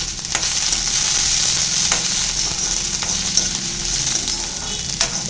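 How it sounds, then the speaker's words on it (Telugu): Curry leaves fry in a spoonful of ghee for a capsicum curry, giving a loud, continuous close sizzle with a few sharp crackles and pops scattered through it. "రోస్ట్గా వరకు వేయించుకుందాం"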